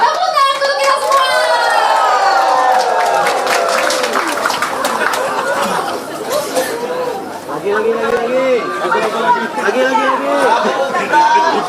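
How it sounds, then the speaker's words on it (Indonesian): Crowd at an Indonesian political rally declaring support for Prabowo Gibran, with sustained loud applause mixed with cheering and busy chatter, continuing steadily throughout. "Tepuk tangan untuk kita semua"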